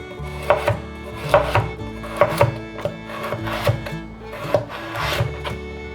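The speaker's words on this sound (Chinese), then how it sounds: "把削好皮的红萝卜切下来，把红萝卜切片" A knife slices peeled carrots on a cutting board, regular crisp chops landing about once a second, close and clear with no talking.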